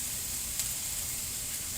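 A soft, steady sizzle of onion and garlic frying in a pan, with a faint hissing texture and a low background hum throughout.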